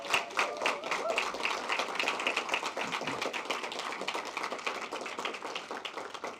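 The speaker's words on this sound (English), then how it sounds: "So let's give that a round of applause." Audience at a school board meeting clapping in a round of applause, fairly faint and a little distant, with individual claps audible in a steady patter throughout.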